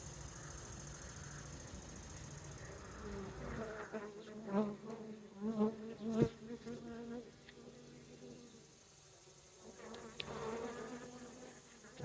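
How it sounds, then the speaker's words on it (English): Honeybees buzz steadily around an open hive during a queen check, with a dense, close drone that swells as individual bees pass near, then settles back into a softer hum. "There's a bee on the camera."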